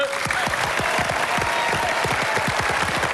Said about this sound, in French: Quelques applaudissements pour les bleus